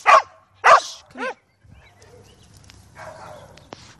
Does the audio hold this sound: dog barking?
yes